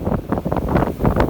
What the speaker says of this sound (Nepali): हजुर हावा यार